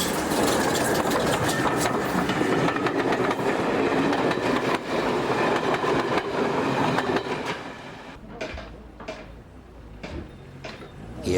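Steam tank engine train on a branch line, a loud close rumble with rhythmic clattering of wheels that fades toward the end, leaving scattered clanks and knocks.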